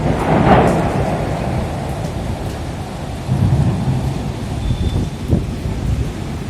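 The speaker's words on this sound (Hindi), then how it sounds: "बिजली की शदीद गर्ज और चमक के साथ तेज बारिश हुई।" Thunder rumbles through steady heavy rain during a midday storm in the old city areas of Hyderabad, low booming rolls rising and fading over a constant hiss of downpour, with a sharper crack near the end.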